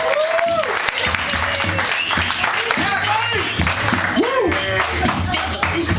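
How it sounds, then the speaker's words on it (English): A club or stage audience claps and cheers as performer David Gomez is called up, the applause running throughout beneath loud, overlapping voices, whoops and shouted calls from people nearby. "Everybody give him a round of applause."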